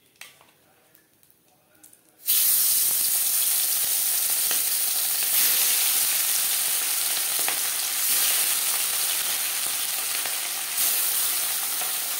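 Chela fish fry in hot oil in a kadai, a loud steady sizzle that bursts on abruptly after a quiet start and crackles on continuously.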